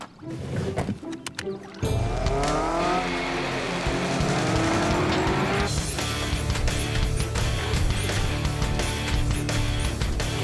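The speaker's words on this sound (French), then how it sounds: "Et maintenant, montez dans le véhicule autonome." A cartoon autonomous vehicle starts up and drives off, a steady loud engine drone with rising whine that starts suddenly after a short burst of clicks and clatter, and lasts to the end with no talk.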